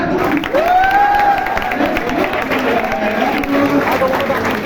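A crowd of students at a stethoscope handout event breaks into dense applause, with a continuous wash of clapping under loud talk and chatter.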